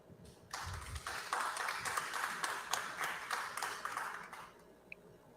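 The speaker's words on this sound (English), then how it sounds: "This universal clapping thing is driving me nuts." An audience at a city council meeting in a theatre claps in a sustained round of applause that starts abruptly, holds steady at moderate volume for about four seconds, then dies away.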